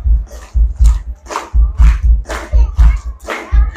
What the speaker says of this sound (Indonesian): Tepuk tangan kanan kiri semuanya